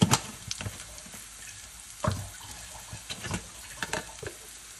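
Spices, including chilli powder, frying in a pan with a soft sizzle under scattered scrapes and clanks of stirring. The sound is quiet and close, in short irregular bursts, with no talk.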